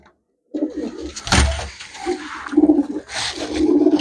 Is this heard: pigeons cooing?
yes